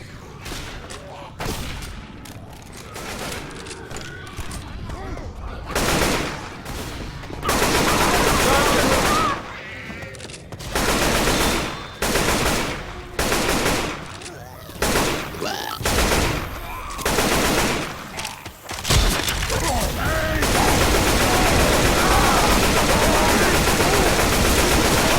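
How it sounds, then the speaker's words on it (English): Bursts of assault rifle fire in the video game Left 4 Dead 2 crackle in rapid, loud volleys separated by short gaps, ending in sustained firing, with game ambience between the bursts. "Grabbing the assault rifle."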